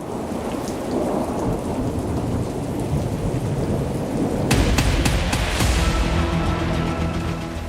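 Heavy rain pours steadily in Karachi as cyclone Biparjoy approaches from the sea, with sharp cracks of thunder breaking through midway and a deep rumble rolling on to the end, loud and close with no voices.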